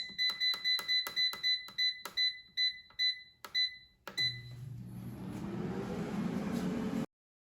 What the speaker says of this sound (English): And now the air fryer is done cooking, so I'm going to take out the basket.